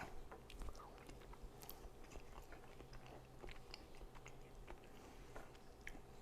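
Close, quiet chewing of a bite of homemade Southern pimento cheese, soft mouth sounds and small crunchy ticks repeating irregularly over a faint background hum, with no talk.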